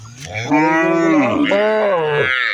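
Cattle on a farm in Nabinagar, Brahmanbaria, moo loudly and close, several long drawn-out bellows overlapping and filling the clip with no talk.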